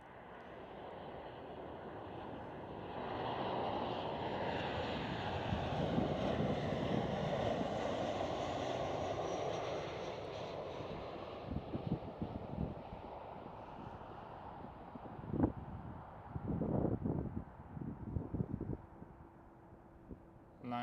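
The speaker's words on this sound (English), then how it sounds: "Nice and smoky 737 landing." A smoky KLM Boeing 737 landing at Amsterdam Schiphol, a broad steady jet roar that swells and lingers at a distance, then fades into gusty wind buffeting and scattered knocks near the microphone.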